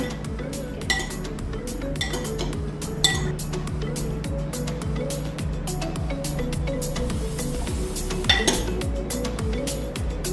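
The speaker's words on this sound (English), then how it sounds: "And then mix your salad." Utensils clink and scrape against a bowl while a tomato and cucumber salad dressed with salt, pepper and olive oil is tossed, a dense run of close metallic ticks with a few sharper knocks.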